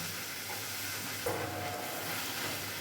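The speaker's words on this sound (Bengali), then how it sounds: "এই সময় আমি দিয়ে দিচ্ছি ওই বাটিরই দু কাপ জল দু বাটি জল দিয়ে দিচ্ছি" Two cups of water go into semolina roasting in a pan for semolina luchi, producing a steady hiss and sizzle with a brief louder surge partway through.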